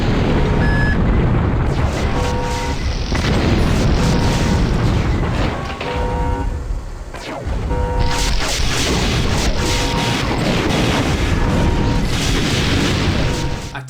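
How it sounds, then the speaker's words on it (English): Heavy, loud booming blasts of a siege cannon in a 1999 mech shooter video game repeat in quick succession over a dense rumbling background, with brief pauses between volleys. "Loving this new siege cannon though."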